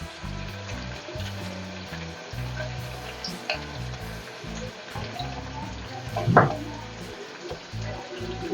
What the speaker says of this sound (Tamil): இப்போ வந்து நம்ம வெங்காயம், பூண்டு, காஞ்ச மிளகாலாம் நல்லா வதக்கிடுச்சு.